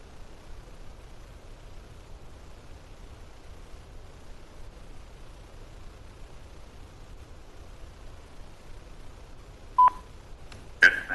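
Telephone dialing tones on a public planning commission hearing line as an appellant is called in: a long stretch of faint hiss, then a few short, loud DTMF-like beeps near the end.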